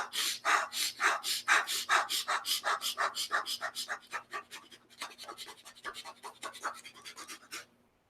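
Fire breathing, a practice of short, rapid breaths: a steady run of quick, forceful panting exhalations, close and loud, gradually getting faster and lighter before stopping.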